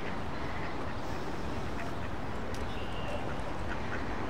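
Ducks quacking outdoors, steady and fairly loud, under broad continuous background noise with a few faint bird chirps and no talking.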